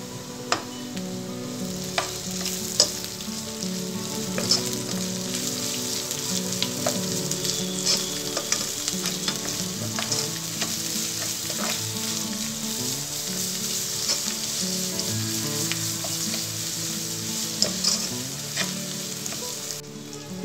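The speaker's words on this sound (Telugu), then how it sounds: "ఉల్లిపాయ ముక్కలు కొద్దిగా మగ్గిన తర్వాత అల్లం వెల్లుల్లి పేస్ట్ వేసుకోవాలి." Onions frying with ginger garlic paste for egg dum biryani give a constant, even sizzle throughout, dotted with occasional faint ladle taps and scrapes, with no one speaking.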